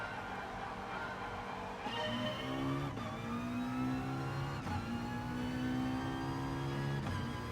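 Race car engine in the video game GT Sport, droning and rising steadily through the gears at the start of a race, loud and continuous with shifting pitch and no talking.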